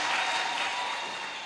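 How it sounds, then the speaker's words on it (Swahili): A church congregation at a Sunday service claps together in a brief, dense burst of applause that fades slightly toward the end, heard alone without voices. "Pigia makofi mazuri"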